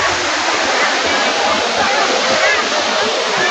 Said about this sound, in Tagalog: Ang ganda ng falls. Dito lang to sa Bulinaw,